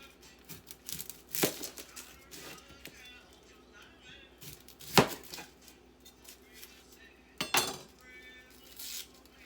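A knife chopping an onion on a board for tuna salad, sparse sharp chops spaced a few seconds apart, close and fairly quiet, with faint clinks between them.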